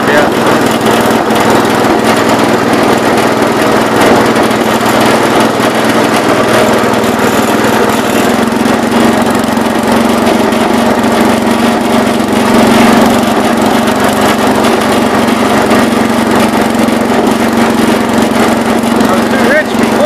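The engine of a 1970 all-white 408 garden tractor runs steadily and loud for the whole stretch, a close, continuous droning with a rich fuel mix, while a voice talks over it.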